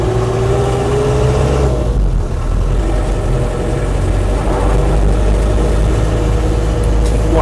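A Land Rover Series III 88-inch diesel truck cab engine runs steadily from inside the cab, a loud continuous low drone with a slight shift in tone partway through.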